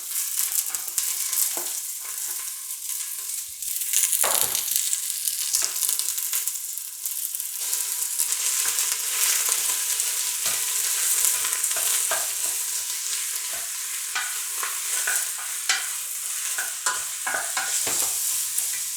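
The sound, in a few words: sautéing onion and sausage for soup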